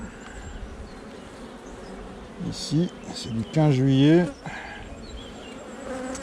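Honeybees buzz thickly around a hive in a coastal apiary, a constant close drone with a few louder passes near the microphone, while a person speaks over it.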